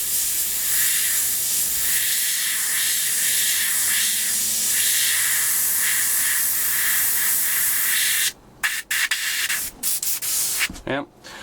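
A Veda 130E airbrush spraying paint along panel lines gives a continuous, loud, breathy hiss for about eight seconds, then cuts into a few short bursts and clicks.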